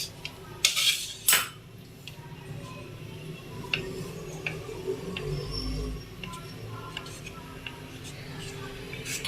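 A knife slices through four slices of bread on a board in a kitchen, with a couple of sharp taps early on and then soft scraping cuts, under quiet background noise.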